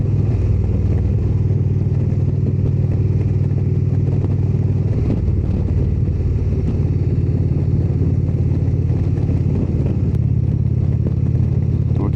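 A motorcycle cruises along Virginia Route 711, a scenic byway, on new tires, its engine drone and road rumble steady and close throughout with strong wind noise and no pauses.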